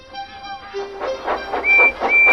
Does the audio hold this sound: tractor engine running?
no